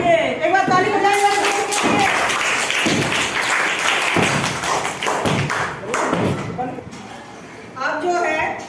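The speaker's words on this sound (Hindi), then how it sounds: "चलिए एक बार ताली बजाइए।" A group, such as a class of children, claps hands together in a burst of mixed, overlapping claps and thuds lasting several seconds, close by, with voices speaking over it at the start and end.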